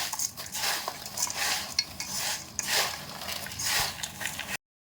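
Crispy fried semiya mixture stirred in a pan, producing repeated close crunchy rustling bursts and light metallic scrapes in uneven sweeps, then stopping abruptly.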